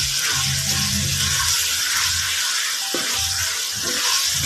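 Bagoong alamang, a shrimp paste, is stirred with ripe tomatoes in a pan. It makes a loud, close frying sizzle, with spatula scrapes and wet stirring clatter in irregular bursts.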